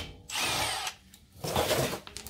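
A battery-powered stubby impact wrench whirs and hammers in two short bursts, removing a wheel from a Scion xB for a brake pad job, close and loud with a pause between.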